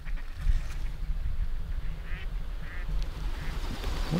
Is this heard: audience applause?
no